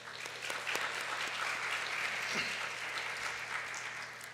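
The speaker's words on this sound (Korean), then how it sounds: "뒤에 미디어 팀을 수고해주신 청년부원들에게 한번 감사의 박수를 전해드리면 어떨까 싶습니다." Church congregation applauds the youth volunteers of the worship and media teams during a Korean Sunday service, a steady, full wash of many hands clapping throughout, fairly loud and even, with no speech over it.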